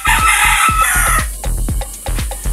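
Chickens cluck in quick bursts while a rooster crows loudly nearby, the flock noisy and close.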